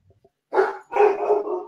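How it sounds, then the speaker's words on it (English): Dogs bark in two bursts, a short yelp then a longer run of loud, close barking with no talk. "And there go the dogs."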